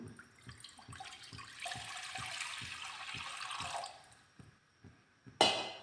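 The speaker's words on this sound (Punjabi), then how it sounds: "ਇਹਦੇ ਵਿੱਚ ਪਾਵਾਂਗੇ ਜੀ ਆਪਾਂ ਪਾਣੀ" Water splashes and pours steadily into a pan on a gas stove for a few seconds amid light rhythmic clatter, ending with a sharp metallic clink.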